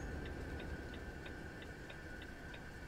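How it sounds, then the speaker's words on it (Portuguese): Steady whir of an electric fan with a faint tonal hum, accompanied by a soft, evenly spaced ticking like a small mechanism clicking about three times a second, low in level with no voices. "O barulho que vocês estão escutando é do ventilador"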